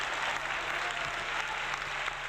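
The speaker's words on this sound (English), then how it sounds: "So give yourselves a round of applause, folks." A live audience at a retro gaming bar trivia stream applauds, steady dense clapping that holds at even loudness throughout, close and without talk.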